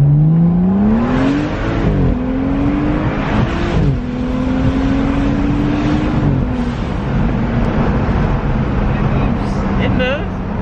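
A stage 2 tuned BMW 435i accelerates hard, its engine droning and climbing in pitch through several gear shifts, heard from inside the car with people talking over it.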